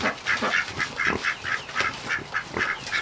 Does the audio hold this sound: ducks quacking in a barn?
yes